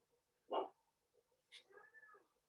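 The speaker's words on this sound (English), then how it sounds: "I've got a dog barking in the background." A dog barks in the background during a live online talk: one short, faint bark, then a fainter drawn-out whine a second later, with no talk over it.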